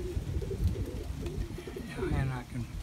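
Tippler pigeons cooing softly inside a fly loft, low murmuring coos close by with someone talking over them.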